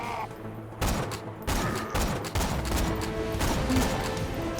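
Rapid bursts of gunfire in Borderlands 2, several loud clustered volleys of shots with short gaps between them, close and punchy with no talk.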